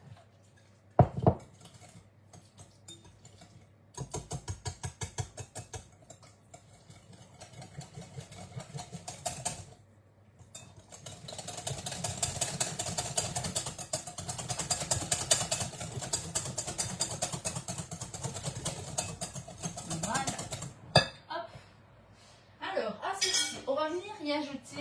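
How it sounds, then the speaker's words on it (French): Eggs for a pumpkin pie whisked in a bowl, a quick rattling clatter of a whisk against the bowl in long bursts with short pauses, close and fairly loud, no talking. "on va d'abord mélanger les œufs"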